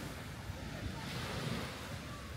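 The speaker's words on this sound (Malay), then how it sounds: "Sini bukannya laut tau, ini adalah tasik. Tapi bunyi macam laut." Waves wash onto the shore of Lake Wanaka in New Zealand, sounding like the sea, with a broad, steady surf rush mixed with wind noise against the microphone.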